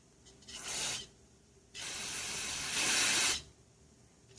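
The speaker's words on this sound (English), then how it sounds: "spray it in here" Two bursts of hissing spray from a spray can into the carburetor of a Honda 2500-watt generator, a short one followed by a longer sustained one, close by with no talking.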